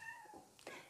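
A house cat gives a soft, quiet meow, a brief tonal cry that rises then breaks into a second short mew, heard faintly at a distance in a room.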